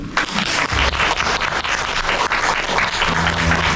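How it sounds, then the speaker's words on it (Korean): Audience applause fills a volunteering policy forum in Suncheon, a dense, steady crackle of many clapping hands sustained at full volume with no speech over it. "도와주실 분만 박수"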